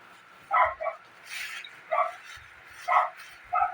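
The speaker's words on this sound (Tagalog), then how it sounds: "Ang ingay ng aso ng kapitbahay." A neighbour's dog barks several times from a distance, short yips separated by pauses, with faint background noise between.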